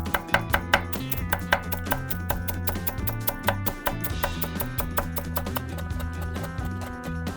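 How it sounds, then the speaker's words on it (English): Fresh parsley being chopped on a board, a rapid, even series of close knife taps over a steady background hum. "Finally chop some fresh parsley and sprinkle it straight into the pot."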